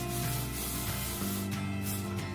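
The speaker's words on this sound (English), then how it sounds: "I like to spray the entire section at the same time, and I like to use the All Net Satin Hairspray by L'Oreal" L'Oréal Elnett Satin hairspray is sprayed onto a section of hair, giving a soft, continuous hiss that stays fairly quiet and close throughout.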